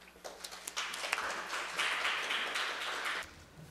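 An audience applauds at a Korean science and technology policy discussion event, a steady round of clapping lasting a few seconds before it stops abruptly.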